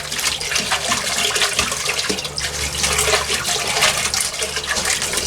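Water is poured and sloshed over a batch of dirt to rinse the clay out of it, a steady, close splashing and gurgling that runs without pause from start to finish.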